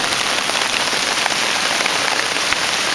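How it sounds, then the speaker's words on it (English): Hail pelting a small tent under a rock overhang, a dense, loud, continuous hiss of impacts with no pauses. "A little hailstorm going on."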